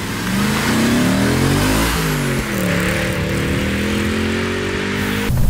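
An Audi RS4 B7 engine revs hard under acceleration, its pitch climbing through gears with a brief dip at each shift, loud and close throughout.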